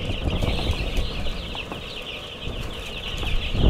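Chickens brought in as day-old birds clucking and chirping steadily inside a warm, controlled-environment poultry shed with clean bedding, a dense continuous chorus close by throughout.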